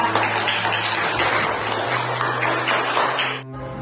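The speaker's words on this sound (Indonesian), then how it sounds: "tepuk tangan ya" A class of pupils claps in a classroom, a dense, steady burst of applause that holds for over three seconds and then stops abruptly.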